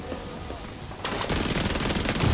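A turret fires in the video game The Division 2 as a quieter opening gives way to a loud, sustained burst of rapid automatic fire that runs to the end.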